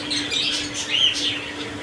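A cockatiel breeder pair gives a few soft, high chirps close by over a faint steady hum in a brief moment.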